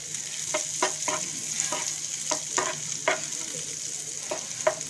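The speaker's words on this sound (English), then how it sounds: "I'm just sauteing the garlic and the green chilies here in some oil and butter" Garlic and green chilies sauteing in oil and butter in a pan for desi-style pasta, a close, steady sizzle broken by several sharp spoon-stirring scrapes at irregular intervals.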